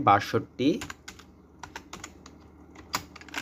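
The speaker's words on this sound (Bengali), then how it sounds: "তো আমি এখন জিমেলটা দিয়ে নিচ্ছি অ্যালেক্স জন" Fingers tap out a Gmail address on a computer keyboard in quick, uneven bursts of close clicks, with a brief voice at the very start.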